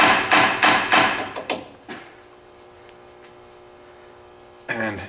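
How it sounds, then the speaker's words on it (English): Sharp metallic hammer taps on a ball joint of a 2013 Dodge Ram 3500 truck, about six quick loud strikes in the first two seconds, then a ringing hum and one more strike near the end. "Sometimes we can loosen it just by tapping on it."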